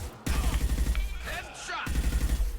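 Rapid automatic gunfire in the Mass Effect video game, loud bursts of fast repeated shots that stop briefly midway and then resume, with a short voice-like sound in the gap.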